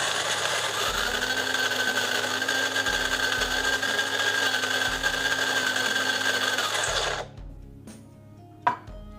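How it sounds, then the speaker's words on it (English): A coffee bean grinder set just coarser than espresso grinds beans for Cuban coffee. It gives a loud, steady mechanical whir for about seven seconds, then stops abruptly, followed by a couple of faint clicks. "First, you'll want to set your bean grinder 2 notches above its finest setting, usually labeled for espresso."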